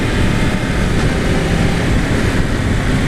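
Engine of a 2017 Yamaha R1 motorcycle under way with its quick shifter, a loud steady broadband roar mixed with wind rush, without clear gear-change breaks.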